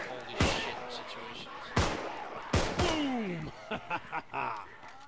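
Shotgun and pistol fire in the zombie game Contagion: a few sharp, loud blasts with echoing tails, followed by a quick run of lighter shots, as players talk between the bursts.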